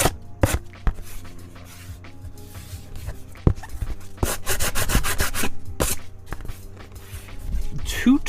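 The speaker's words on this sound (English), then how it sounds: "sometimes what I'll do is just kind of sand some of those edges off." Sandpaper rubs over the edges of acrylic paint on a stretched canvas in short, scratchy strokes. The strokes come in bursts with pauses between them, close by, with low room hum and handling noises underneath.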